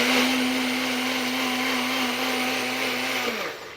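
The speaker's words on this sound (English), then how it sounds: "We'll blend my tomatoes." A blender runs continuously on tomatoes with a loud, close, steady motor whine that holds even and then winds down at the end, with no talking.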